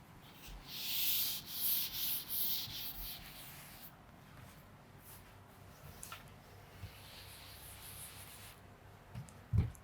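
A board being wiped to rub out written numbers during a class 10 maths lesson, a loud scrubbing rub in the first four seconds that fades to faint rustling and a closing knock.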